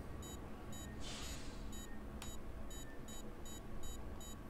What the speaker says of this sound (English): One more alarm.